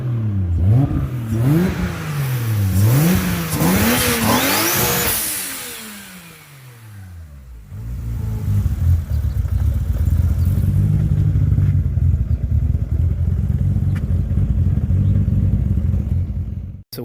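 A Saturn Ion Redline with a modified exhaust revs repeatedly, engine note rising and falling in quick cycles, dropping back briefly, then settling into a loud steady rumbling idle close to the car.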